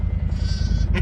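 A ewe on a dairy farm calls for her lambs with one close, drawn-out bleat that fills the moment.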